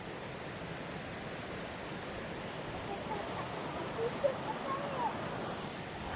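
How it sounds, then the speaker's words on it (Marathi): Floodwater from the season's first heavy rain rushes past near village homes in a steady, broadband roar, continuous and moderately loud with no clear breaks. "पूर झाला पूर."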